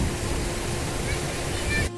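Cold river water of the Raval river in Gir flows with a steady, close broadband rush that stays even throughout and cuts off abruptly at the very end.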